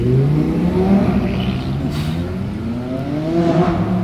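Supercars on the streets of Monaco, including a blue Lamborghini Huracan STO, a McLaren and a Ferrari 488, accelerating loudly with overlapping revving engine notes that rise and fall close by, with no talking.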